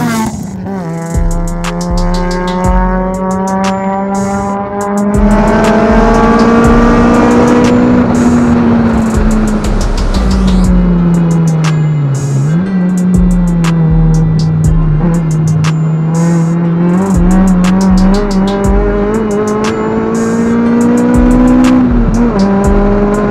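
An 8th gen Honda Civic race car drives past on a racetrack, its engine rising and falling through gear changes, loud and close, then fading as it moves away.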